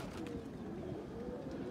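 Rampuri and Teddy breed pigeons kept by a breeder coo softly and continuously in a low, murmuring drone, close by, with a faint bird chirp or two above the steady cooing.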